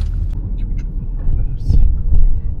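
Inside a Maserati Grecale with a 2.0L 300 hp engine, heavy low road rumble swells as the SUV hits a sharp pothole, a brief jolt and thud in the cabin noise, with a faint voice present.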